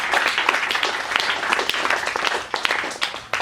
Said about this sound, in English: That's just a round of applause for Jared.